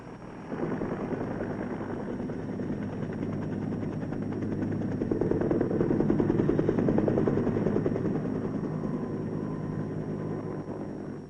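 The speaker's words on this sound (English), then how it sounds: "The UH-1B armed helicopter." Steady, rumbling engine of a UH-1B armed helicopter with a continuous rotor throb, swelling slightly louder midway before easing off, heard without voices.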